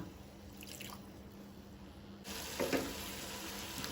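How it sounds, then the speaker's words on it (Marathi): A splash of water goes into a pan of Goan-style raw papaya bhaji, bringing a brief burst of sizzling and dripping over a steady low frying hiss, close by and moderately loud. "तातून हांव घालता थोडेशें उदक"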